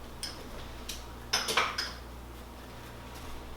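A utensil scrapes the last of some almond butter from a bowl: a few quiet, short clinking scrapes come in a small cluster, with a low steady hum underneath.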